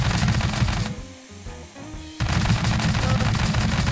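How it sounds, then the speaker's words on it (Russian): Rapid automatic fire from a machine gun in the building game Scrap Mechanic, loud dense bursts that break off briefly and then resume at full strength. "Во, смотри, какой пулемет у нас!"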